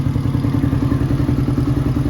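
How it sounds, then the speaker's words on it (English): A 2021–2022 Tao Tao TBR7 dirt bike engine idles after warming up, giving a loud, close, steady low thumping putter with faint clattering valve chatter, unbroken throughout. "Seems to be warming up, idling pretty good now."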